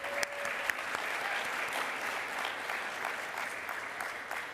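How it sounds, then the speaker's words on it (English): Conference attendees at the State of the Map US closing session applaud together, a steady wash of clapping from a large room held at even strength from start to finish. "let's all give ourselves a round of applause for a really awesome conference"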